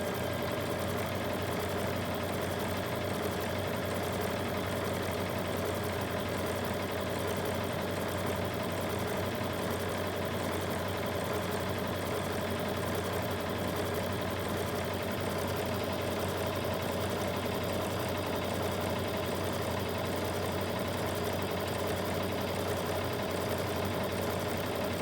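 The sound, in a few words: sewing machine stitching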